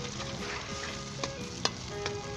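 Eggs sizzle steadily in an open pan over medium heat as Punjabi-style egg khagina cooks. A spoon scrapes and taps now and then through the continuous frying hiss, with no voices.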